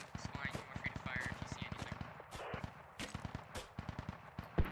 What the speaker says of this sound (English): Speaking of shooting at, mortar's coming out.